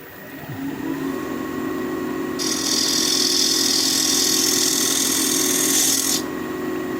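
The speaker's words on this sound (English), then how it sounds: "Do that with a smaller 3/8 inch bowl gouge." Maple bowl spinning on a wood lathe as a 3/8 inch bowl gouge cleans up the bottom, a steady machine hum joined midway by a bright, continuous hissing cut that stops near the end.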